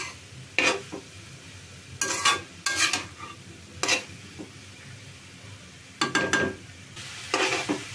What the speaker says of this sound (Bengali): এইভাবে পুরাটা ভাজি ভাজি করে নিতে হবে। একটু পুরাটা ভেজে নিতে হবে।